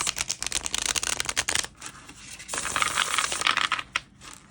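A deck of cards being shuffled close up, with rapid riffling bursts in the first half and then a softer, longer run of card slides.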